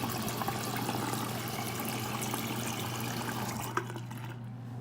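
Water runs steadily into an acrylic sink in a bathroom, a soft continuous splashing rush heard close, then it tapers off near the end.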